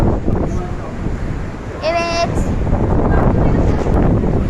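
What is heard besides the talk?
wind blowing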